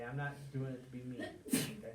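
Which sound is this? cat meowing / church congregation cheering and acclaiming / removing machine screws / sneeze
sneeze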